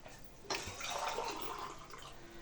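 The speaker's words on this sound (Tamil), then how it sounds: "தண்ணி ஊற்றிக்கலாம். தண்ணி நல்லா சூடாகட்டும்." Water is poured into a cooking pan to be heated for boiling. After about half a second of quiet, a close, steady splashing pour begins and keeps going to the end.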